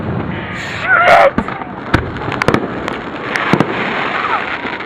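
Fourth of July fireworks going off in a loud burst, followed by a string of sharp cracks and pops over steady outdoor background noise, some booms near and others farther off.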